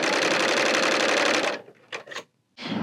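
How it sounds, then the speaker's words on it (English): Bernina L890 serger overlocking and trimming fabric, a loud steady high-speed whir for about a second and a half, then stopping, followed by a few short bursts of stitching and a restart. "On a serger, I can serge off of a piece of fabric as long as I want."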